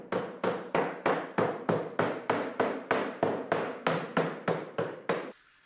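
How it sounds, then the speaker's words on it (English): A hammer strikes a concrete table mold in a steady, even rhythm, about fifteen close, sharp blows in a row, each ringing briefly before the next. "even underneath the mold you can hit it with a hammer"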